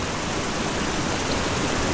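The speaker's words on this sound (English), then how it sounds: "You see the water coming through. And what a heavy flow that is." Heavy fresh water pouring steadily through trout farm ponds, a dense, continuous broadband rush heard close and loud with no pauses or voices.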